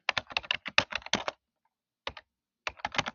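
Fingers type on a computer keyboard in quick bursts of close, crisp key clicks, pausing for a moment before a few more strokes and another rapid run.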